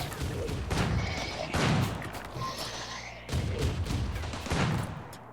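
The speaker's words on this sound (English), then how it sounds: "Turrets are defending the base at least." Base-defence turrets in the video game RimWorld fire rapid bursts of gunshots in several loud, clattering volleys with short pauses between them.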